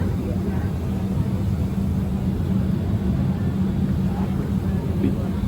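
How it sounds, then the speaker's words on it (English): Steady broadband hum and low drone of a nearly empty airliner cabin during the flight's second leg, constant and unbroken throughout with no talking. "The emptiest airplane I've ever been on."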